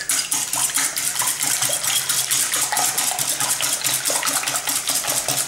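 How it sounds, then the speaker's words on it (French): A wire whisk beats egg whites by hand in a bowl for a chocolate moelleux, giving a fast, steady run of bright metallic clicks and scrapes that stays close and loud throughout. "un fouet à blanc, mes blancs en neige"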